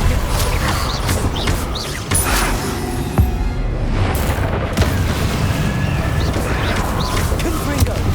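In the Hogwarts Legacy video game, spell explosions from Confringo and Bombarda boom repeatedly through a loud, busy battle, mixed with creaks and crashes, while a voice is partly heard beneath the din.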